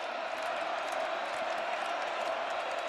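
Stadium crowd at a Colorado vs TCU college football game roaring after a TCU sack, a dense, steady wall of cheering and noise that holds loud throughout.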